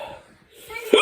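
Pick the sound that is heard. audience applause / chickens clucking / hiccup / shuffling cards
hiccup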